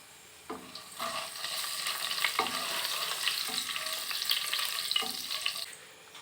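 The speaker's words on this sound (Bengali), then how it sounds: "প্রথমে দিয়ে দিচ্ছি সামান্য জিরে একটু ফোড়নের জন্যে।" Cumin seeds sizzling and frying in hot oil, left over from frying fish, as a tempering for dal, with steady crackling broken by a few stirring scrapes, close and moderately loud, with no voices.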